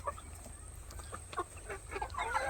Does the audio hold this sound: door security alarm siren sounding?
no